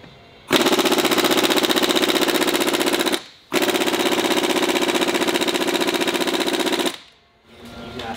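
Pneumatic impact gun rattling hard on a Ford Raptor SuperCab's lug nuts to pull a tight wheel, two long loud continuous bursts with a brief pause between, then it stops.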